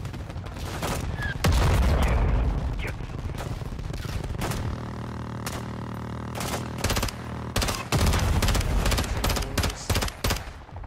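Covering gunfire in the Call of Duty: Modern Warfare II (2022) video game, with loud bursts of rapid automatic fire and heavy booms, in repeated volleys broken by short pauses.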